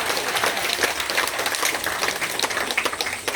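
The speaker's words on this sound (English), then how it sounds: "Give him a round of applause" An audience at an Australian crocodile show claps steadily in a dense, even round of applause, fairly loud and continuous with no talk over it.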